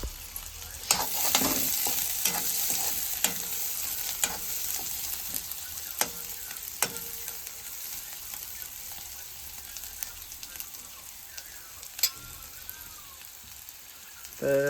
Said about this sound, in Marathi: आता कांदा टाकला तेलावर.